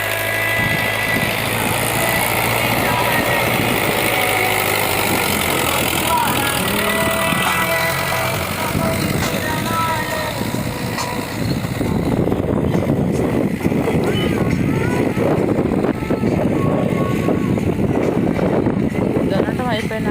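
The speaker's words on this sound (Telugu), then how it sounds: "విత్తనాలు నాటడానికి ట్రాక్టర్ వచ్చింది ఈరోజు ఉదయాన్నే" A tractor engine drones steadily in a farm field where it has come to plough and sow seeds, a continuous close mechanical rumble heard beneath ongoing talk.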